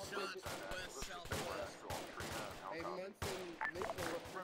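Gunfire in Arma 3 during a realism-unit military operation, with repeated sharp shots and bursts of rifle fire popping in quick, uneven clusters at a moderate distance, a dense, noisy firefight throughout.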